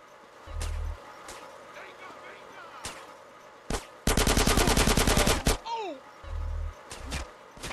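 Gunfire in the video game GTA San Andreas: a dense burst of rapid automatic shots lasting over a second, with a few isolated single shots and low thuds spaced around it, close and loud.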